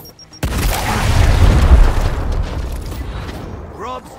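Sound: grenade explosion in video game Gears Tactics

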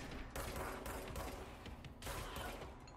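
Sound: gunshots in the video game Control

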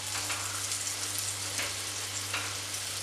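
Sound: egg fritters (mutta pori) frying in oil

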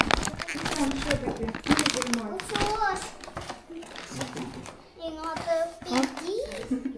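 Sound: crinkling bag of Chupa Chups lollipops being pulled out

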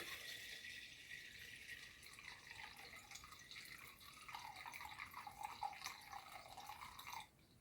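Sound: pouring water into an ice bag

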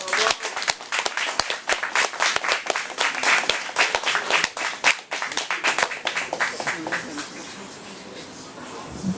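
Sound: audience applause after cabaret performance

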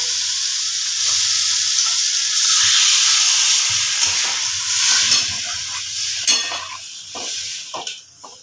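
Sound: water poured into egg curry in hot pan

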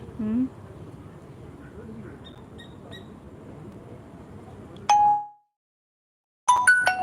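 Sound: phone ringing

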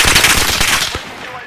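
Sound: P90 gunfire in a video game

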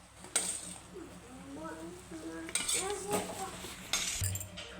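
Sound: cooked drumsticks being taken out into a plate

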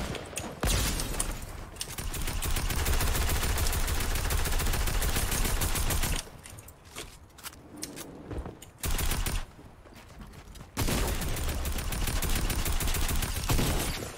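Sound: Dragon's Breath shotgun firing in the video game Fortnite

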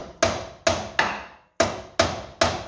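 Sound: hammer hits seating a ball joint

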